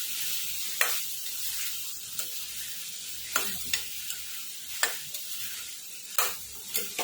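A spoon stirs finely chopped tomato into sizzling eggplant and potato in a frying pan, with steady frying hiss underneath and sharp scraping strokes every second or so.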